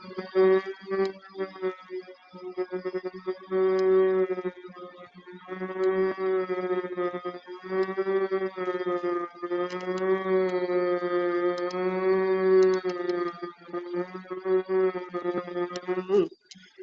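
A person hums deeply from the throat while breathing out, imitating a buzzing bee during a breathing exercise in a wellness class. The sustained, resonant drones last several seconds each, separated by short breaths.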